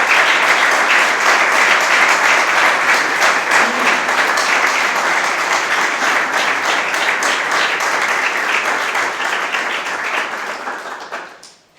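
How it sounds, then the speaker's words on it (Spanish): A room of attendees at a radon conference panel applauds as the speakers come up, a dense, even clapping sustained for about eleven seconds before fading out quickly at the end. "pido a todos los ponentes que suban y darle un aplauso"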